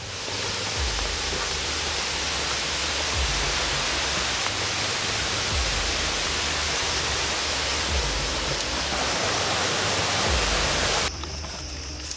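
Lubuk Bulan waterfall in 50 Kota, West Sumatra, gives off a loud, unbroken rushing roar of falling water that holds steady for several seconds before shifting briefly near the end.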